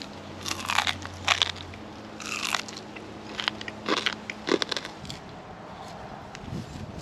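Crunchy food is chewed close up, with several loud, irregular crunching bites over a low background hum and no speech.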